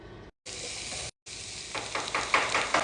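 Onions frying in oil for a mushroom machanka, giving a steady, close sizzle that cuts out twice briefly and then grows into louder, crackling bursts. No one speaks.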